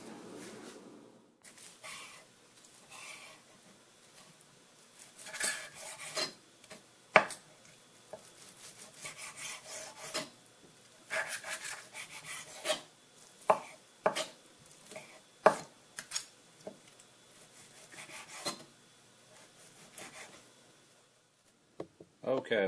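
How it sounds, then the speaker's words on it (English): A knife slices steak thinly on the bias on a cutting board for quesadillas, with a long run of close, uneven chopping taps and board knocks separated by quiet gaps and brief shuffling. "we're going to cut these on a fairly thin bias"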